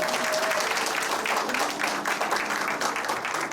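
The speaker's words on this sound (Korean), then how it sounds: "큰 박수 부탁드리겠습니다" Sustained applause from a seated audience fills the hall as a children's group home day welfare budget report ceremony opens, dense steady clapping throughout with a faint tone underneath.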